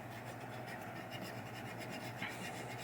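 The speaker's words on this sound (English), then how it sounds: "And this is just 600 grit sandpaper. And just give her a couple rubs on the contacts." 600 grit sandpaper rubbed on pinball machine switch contacts: a steady, fine scratchy rasp, close and fairly quiet, with no talking.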